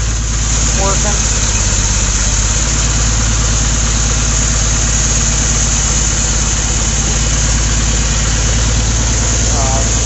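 A John Deere 420 lawn and garden tractor with a freshly rebuilt P220G engine runs steadily, a loud, close, even mechanical drone with constant vibration, while people talk over it.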